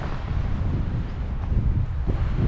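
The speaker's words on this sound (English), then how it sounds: "And we're getting the wind again. A pretty good gust blowing." A strong wind gust on a January forest hike at Boggs Mountain State Forest buffets the microphone with a constant low roar, steady and loud throughout, with no voices.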